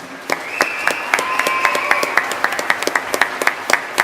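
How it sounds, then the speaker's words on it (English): An audience applauds recruits at a finale night event, scattered and uneven clapping close by with individual sharp claps standing out as a voice briefly rises above it. "I think they deserve a massive round of applause for that"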